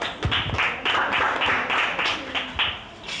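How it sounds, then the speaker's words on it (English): Audience applause at a book reading event, a dense, steady clatter of many hands clapping that carries on evenly through the whole stretch. "A round of applause for us."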